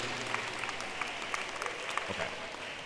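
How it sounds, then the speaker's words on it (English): Audience applause at a middle school awards ceremony, a sustained patter of many hands clapping at moderate volume, even in rhythm with a few sharper claps. "give him a round of applause"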